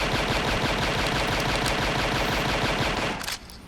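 Rapid automatic gunfire from Falco's blaster in Super Smash Bros. Melee, a loud, dense, continuous burst of shots lasting about three seconds before cutting off abruptly.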